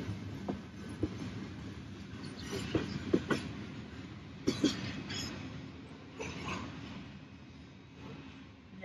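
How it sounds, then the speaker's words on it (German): A long CSX freight train hauled by a GE ES44AH locomotive rolls past at Clay Historical Park, a steady rumble with scattered clanks and wheel knocks over about nine seconds, moderately close and without voices. "Ja, also der Zug hat jetzt bestimmt gute 4 Minuten gebraucht, um hier vorbeizufahren."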